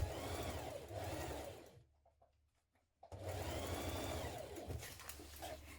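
A sewing machine stitches the lining of a coat together at the shoulder and side seams, whirring loudly and steadily, then pausing for about a second before it runs on again at full speed.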